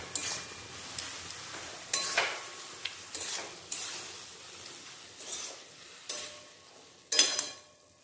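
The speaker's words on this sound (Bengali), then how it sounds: "সরষে বাটা দেওয়ার পর দু চারবার ভালোভাবে নেড়ে নেব," Repeated stirring of mustard paste through fried drumstick flowers and chopped tomato in a pan, with about eight distinct scraping strokes at a steady rhythm over a faint sizzle, close and moderately quiet.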